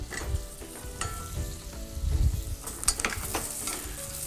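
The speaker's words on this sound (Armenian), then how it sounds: "Ավելացնում ենք խնձորները։" Apples dropped into a pan where celery is already frying in melted butter, giving a steady close sizzle with stirring scrapes and small bursts of crackle throughout, no voices.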